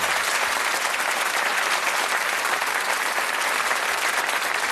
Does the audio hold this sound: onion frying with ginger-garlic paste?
no